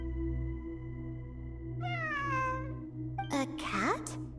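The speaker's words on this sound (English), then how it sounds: "It really is a cat." A cat meows twice in a video game story event, a drawn-out call followed by a shorter, sharper one, over a steady low background hum.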